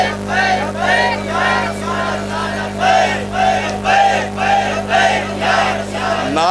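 Crowd at a religious gathering chanting slogans in loud, rhythmic unison, repeated call-like bursts roughly every half second to a second over a steady hum, close and dense throughout.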